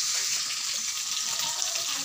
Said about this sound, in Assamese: যিখিনি ভাজি খোৱা মাছ সেইখিনি অলপ ধুনীয়াকৈ ফ্ৰাই কৰিম